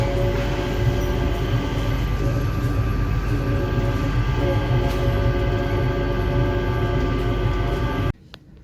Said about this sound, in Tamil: இது ஆட்டோமேட்டட் ட்ரெயின்.